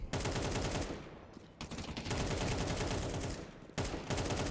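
Gunfire in Counter-Strike 2: loud, dense bursts of automatic shots in several long runs, separated by brief gaps, up close and without any voice.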